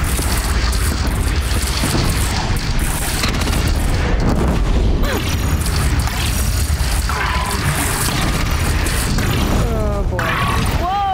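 A bridge shot down and collapsing in Horizon Zero Dawn, a dense loud rumble of booms, crashing debris and gunfire-like impacts running continuously, with talk heard over the chaos.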